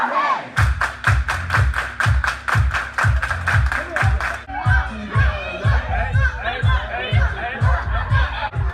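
A crowd claps hands in a steady, evenly spaced rhythm at a local community event. The beat is loud and regular, then loosens into scattered chatter and voices.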